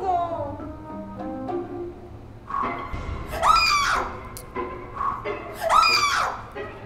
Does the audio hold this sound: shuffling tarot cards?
no